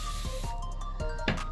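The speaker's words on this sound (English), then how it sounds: "so then we spray it with water" A spray bottle mists water onto a watercolor canvas in a few short, soft hissing bursts. The last burst is slightly stronger. They are faint over a steady background hum.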